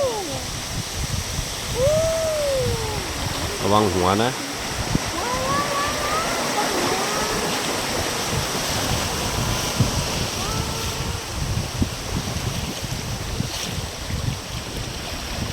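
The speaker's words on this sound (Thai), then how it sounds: "เนี่ยน้ำตก" A waterfall seen from a boat gives a steady, loud rushing roar with wind buffeting, while people talk and birds chirp over the top.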